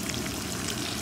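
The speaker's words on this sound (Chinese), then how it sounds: "咁啊，煎呢邊。" A pork chop frying in a pan over low heat gives a steady, close sizzle and crackle that fills the short moment without any voices.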